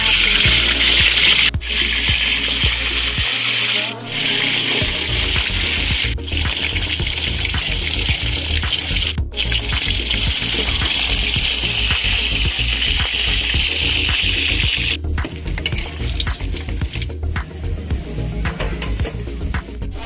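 Tilapia fish being washed under running water in a kitchen, with a steady loud rush and splash of tap water and rubbing handling sounds throughout, pausing briefly now and then.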